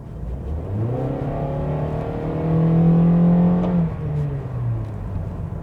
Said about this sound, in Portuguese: E de motor, vou dar uma aceleradinha aqui para vocês verem.